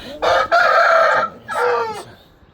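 A rooster crows loudly and close by, two long harmonic calls in quick succession, the second slightly shorter, with no talk.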